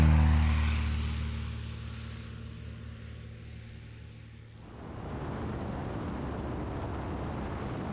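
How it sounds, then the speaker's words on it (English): Two light planes, one a timber-framed Tiger Moth, take off at an airfield. A loud low engine drone fades away as the first departs, then a second rougher, broadband engine roar builds and holds steady. "it gave him the rare opportunity to film both planes taking off"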